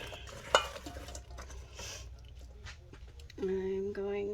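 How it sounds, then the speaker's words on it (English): Meatloaf mixture being worked by hand in a bowl gives soft, wet squishing and stirring noises, faint and close, with a clink near the start and a low background hum toward the end. "you just want to mix it around the best you can."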